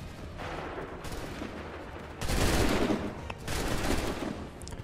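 Musket volleys from soldiers in Assassin's Creed III, a sustained crackle of massed gunfire that swells into two loud bursts, rolling and dense with no talk over it.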